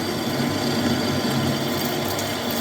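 A metal lathe parts off a steel piece for a handmade custom bicycle, giving a steady close whirring drone with a faint cutting hiss that stays level and unbroken for the whole few seconds.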